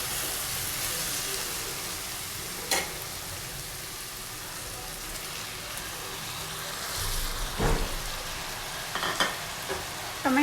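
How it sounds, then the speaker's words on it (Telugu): Onions and tomato frying in a pan for a spring onion and egg fry, with a steady soft sizzle and occasional sharper scrapes and clicks of stirring, close and moderately quiet throughout. "ఆనియన్ అన్నీ కూడా హాఫ్ ఫ్రై అయిన తర్వాత నెక్స్ట్ టమాటో యాడ్ చేస్తున్నానండి"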